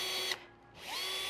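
A Bosch cordless drill driver whirs close by as it drives a screw, with a brief pause in the motor before it winds back up, short and alone without speech.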